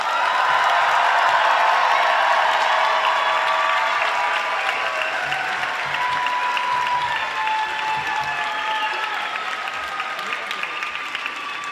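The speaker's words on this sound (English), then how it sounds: "let's have another round of applause for our 2025 Oaks graduates" Sustained applause and cheering from a large crowd honoring 2025 Oakes College graduates at a UC Santa Cruz commencement ceremony, a dense, steady roar of clapping that holds for many seconds, loud and continuous.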